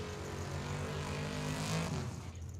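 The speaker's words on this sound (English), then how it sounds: "I'm pretty healthy burnout out of the little road runner as well" A Road Runner drag car does a burnout at Tucson Dragway, a steady loud engine roar with tire squeal heard from a distance that tapers off near the end.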